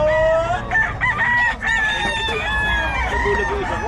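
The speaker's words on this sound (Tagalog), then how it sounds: "Manok siguro." Several chickens and roosters crow and cluck loudly and close together, overlapping calls rising and falling, with voices talking faintly underneath.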